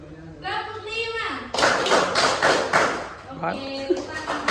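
A classroom of children claps out a counted pattern, ending in a quick run of about five sharp, loud claps, with a teacher's voice speaking just before and after.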